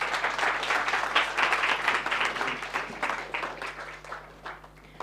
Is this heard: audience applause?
yes